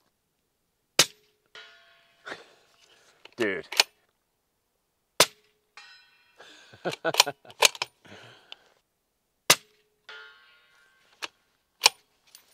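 Several sharp, muffled shots from an Aero Solus rifle with an Aero Lahar 30 suppressor and subsonic ammunition, spaced out over a few seconds, each a short thump-crack with a quick fade, with brief speech and rustling between shots.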